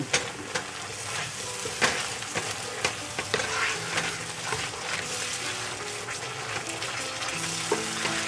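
Turmeric curry gravy for air-fried tofu is stirred in a hot pan, a steady sizzle broken by repeated scraping and clacking strokes of the spoon, close and fairly loud with no voices.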